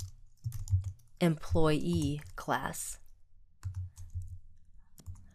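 Computer keyboard typing, quick light key clicks running under and between a nearby voice speaking, with short bursts of keystrokes before and after the talk.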